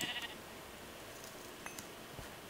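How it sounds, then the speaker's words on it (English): Sheep in a Minecraft-style video game bleat in a few short, faint calls over a quiet background. "Wow, there are so many sheeps here."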